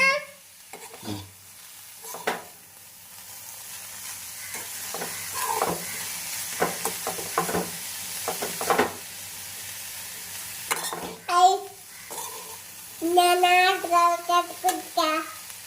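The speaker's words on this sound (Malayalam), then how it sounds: "നന്നായിട്ട് ഇളക്കി കൊടുക്കണം" Bitter gourd with salt gets stirred in a frying pan, with soft sizzling and intermittent scraping and tapping of the spoon while people talk nearby, including a voice toward the end.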